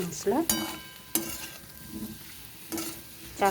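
Potatoes with cumin and green chilies frying in a pan and being stirred, with a few distinct scraping strokes over a soft, continuous sizzle.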